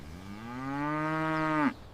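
A single cow lets out one long, loud, close moo that holds steady before dropping off abruptly at the end.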